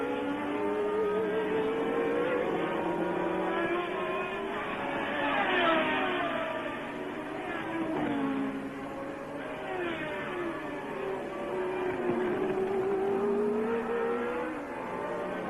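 Formula One race cars at the Dutch Grand Prix roar past one after another, engines rising and falling in pitch as they accelerate and pass, heard from a distance at a steady level without talk.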